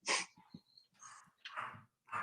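A dog in a room makes a string of breathy snorts, huffs and short sniffs in uneven bursts, close to the microphone and fairly quiet, with no one speaking over it.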